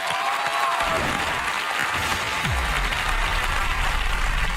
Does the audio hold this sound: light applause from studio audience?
yes